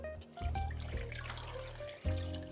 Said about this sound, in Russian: зальем холодной водой